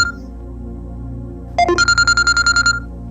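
An indoor telephone rings in a fast, repeated electronic trill that starts partway through and pulses about ten times, loud and close, with no talk over it.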